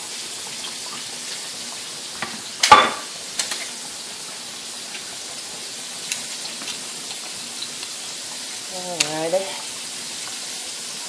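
Pork chops frying in a pan for smothered pork chops, a soft steady sizzle in the background broken by a few clatters, with a brief spoken word near the end.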